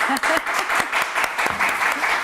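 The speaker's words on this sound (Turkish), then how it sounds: "Çok o zaman bir de bana alkış" Studio audience on a Turkish TV word-game show applauding, a dense steady clatter of claps across the whole stretch with a few brief voices and laughs poking through.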